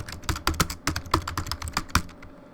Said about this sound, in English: Maybe the typing's bugging you.